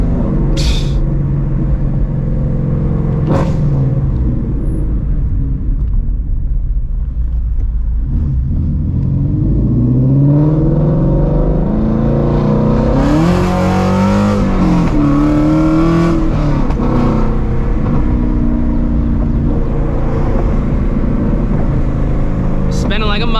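A Ford Shelby GT350 fitted with long tube headers revs hard and loud through rising pulls with rumbling exhaust, heard from inside the car, with a brief voice near the start.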